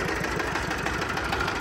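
A truck's 24 diesel engine running at idle, a steady close rhythmic chugging rumble heard alone.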